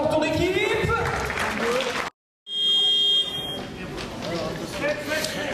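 An audience applauds a team during a timeout at a French wheelchair basketball cup semi-final, a broad wash of clapping in a gym that breaks off briefly, then resumes under a loud buzzer tone and talk.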